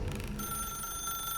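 Brief old-style telephone bell ringing in The Stanley Parable, a single bright trilling ring that cuts off and leaves a thin lingering tone, moderately quiet and alone.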